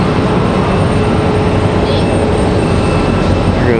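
Southwest Airlines jet passing at Raleigh-Durham airport, a loud, continuous close rumble with a thin tonal whine running through it.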